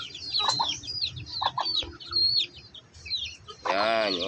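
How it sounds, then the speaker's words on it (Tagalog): One-month-old chicks peep and cheep in high, quick bursts close by, interrupted once by a louder, drawn-out squawk near the end, over a faint background rustle. "Yan yung ating sisiw na 1 month old."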